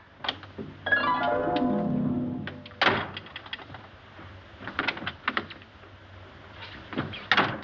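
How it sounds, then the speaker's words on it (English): A door opens and shuts on its own, with a creaking swing followed by a solid thunk and some rattling knocks, loud and close against a low background hum, no voices. "Doors just don't open and shut themselves."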